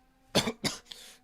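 A single person coughs twice in quick succession, close and fairly quiet, followed by a softer trailing breath.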